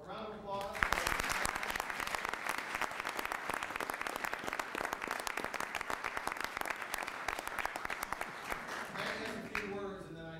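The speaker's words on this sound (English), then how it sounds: "A round of applause." Attendees at a city council meeting break into applause, a sustained, fairly distant burst of many hands clapping that fades out near the end, with a voice talking at the start and close.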